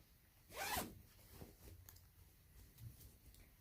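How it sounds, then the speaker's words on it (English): A single quick zipper pull on a cross-stitch project bag rasps loudly near the start, followed by faint rustling and small handling sounds. "Another zipper noise, I'm sorry."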